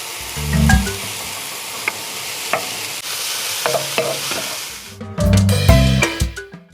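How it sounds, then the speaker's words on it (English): Steady sizzling with repeated scraping and clattering of a utensil stir-frying rice in a hot wok, close up and loud. "When you can see here, it is sizzling properly."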